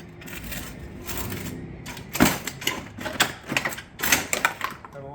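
A shingle panel cutter slices along a marked cut line, giving a string of sharp mechanical clacks and bursts that grow louder and more frequent toward the end, over a low background hum.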